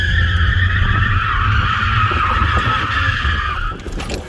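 Manual BMW 325ci doing donuts, tyres screeching in a long sustained squeal over a loud engine, easing off near the end.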